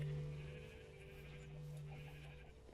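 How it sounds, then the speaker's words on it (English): Sheep in the Minecraft video game give a couple of nasal bleats, one strong at the start and another fainter one following, over quiet game background. "Which is why there's a bunch of adult sheep."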